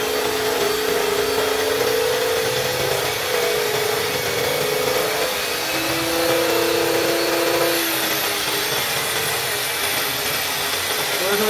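An electric drill bores a hole through glass, a steady whining grind with shifting pitch that runs continuously at close range with no talk.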